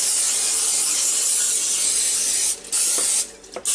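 Nonstick cooking spray hisses steadily onto a pan, a continuous close spray for about two and a half seconds, then two short bursts with brief gaps between them.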